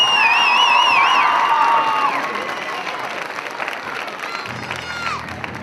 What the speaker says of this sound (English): Ladies and gentlemen, one more round of applause for all of our King and Queen candidates tonight